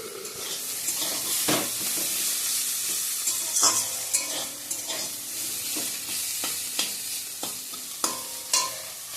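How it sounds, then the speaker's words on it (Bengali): Dhenki greens (fiddlehead fern) stir-fry in a pan: a constant sizzle is broken by repeated scraping strokes of a spatula, with occasional clinks against the metal, close and unaccompanied by speech. "ঢেঁকি শাক ভাজাটা হয়ে গেছে"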